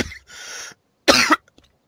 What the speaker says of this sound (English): I do have a cough at the moment.